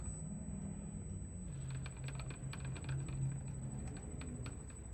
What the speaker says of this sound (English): I don't know what the little click clack noise is.